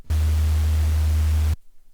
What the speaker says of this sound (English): we have noise, turn this down a little bit to like here, grab a distortion